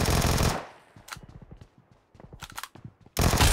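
Loud bursts of automatic gunfire in the mobile battle-royale game PUBG Mobile open and close the moment, with lighter scattered shots and clicks in between.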